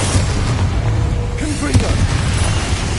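A Confringo spell blasts in a wizarding video game, a loud booming explosion with a rumbling tail under a continuous dense bed of game noise.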